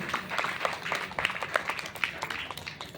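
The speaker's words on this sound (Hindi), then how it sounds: "अच्छी बात लगे तो भगवान के लिए एक बार ताली बजाइए" An audience at a Shrimad Bhagavat Katha religious gathering claps together in a dense, continuous round of applause, moderately loud and filling the hall for the whole few seconds.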